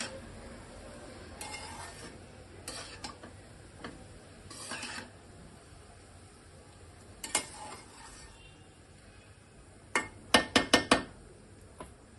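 Fried rice being stirred in a pan with the gas flame being turned off, giving scattered scraping and metallic clinks that build to a quick burst of sharp utensil taps near the end, with no talking.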